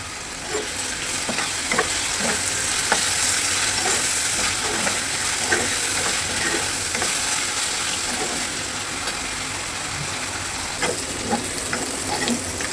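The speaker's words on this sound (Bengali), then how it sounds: "বেশি বারবার নাড়া দিলে ভাজা হয় না, আর নাড়া না দিলে পুড়ে যেতে চায়, তাই অল্প অল্প নাড়া দিচ্ছি মাঝে মাঝে" Salted potato chunks fry in a pan with a loud, continuous sizzle, while sparse scraping stirs come every few seconds throughout, and no voices are heard.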